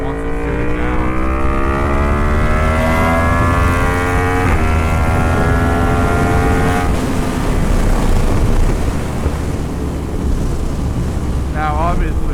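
Yamaha MT-10 motorcycle ridden at speed, its engine note climbing steadily through the gears with a brief shift break, close and loud under constant wind rush.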